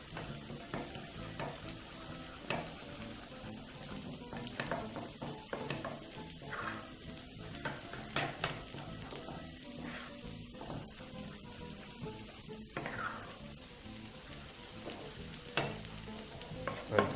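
Choux pastry dough being stirred in a pan on the heat, with a steady scraping and swishing that runs on continuously alongside a soft sizzle and some faint clinks.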